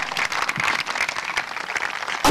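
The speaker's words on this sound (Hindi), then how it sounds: "में दम तो ताली जरूर।" Sustained audience applause from a crowd at a motivational talk for the Mahavir Jayanti celebration, dense steady clapping for about two seconds before it cuts off abruptly.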